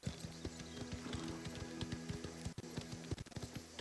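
Horse hooves clip-clop steadily at close range on a stable path in the Sicilian-set game Mafia: The Old Country, a regular rhythm of sharp knocks repeating throughout over low background music.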